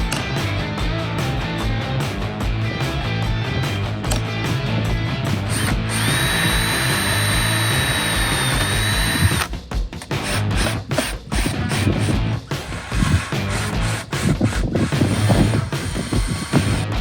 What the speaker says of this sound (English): go get my drill and I'm gonna put it up there.